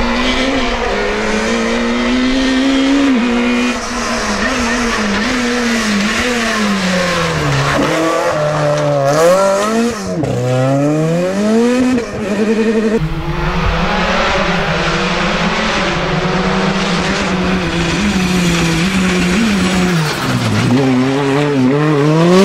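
Renault R5 rally car racing at the Rallye de Boulogne, loud engine revving up and down through gear changes with bursts of acceleration and tire noise, close and dominant throughout.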